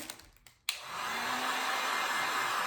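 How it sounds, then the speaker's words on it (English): A few soft clicks and rustles, then a heat gun switches on and blows a steady, loud hiss of air that continues without pause while sealing packaging on activated charcoal soap bars. "I have my heat gun. Might be a little noisy"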